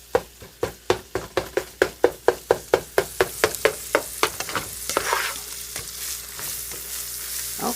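Gravy sizzling and frying in a pan while a utensil scrapes and taps against it in a fast, regular series of about twenty strokes, then settling into a continuous sizzle with occasional stirs, close up.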